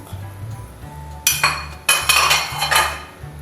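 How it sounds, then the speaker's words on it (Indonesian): A spoon stirs sayur asem ingredients such as corn, palm sugar and tamarind in a metal pot, sending a few bright clinks and scrapes over a low background hum. "Kita aduk dulu ya."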